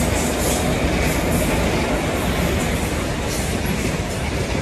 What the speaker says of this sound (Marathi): रेल्वे यायला लागली आता.